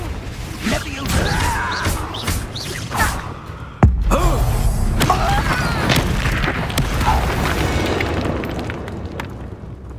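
Spell blasts in the video game Hogwarts Legacy: one sudden heavy boom cuts in midway, followed by a sustained rumbling roar, over busy game effects and vocal sounds.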